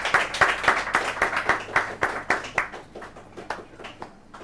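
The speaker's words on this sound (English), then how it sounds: "let's applaud." A small audience claps in rhythmic, fairly close bursts during a talk interview, the applause steady and then thinning out toward the end.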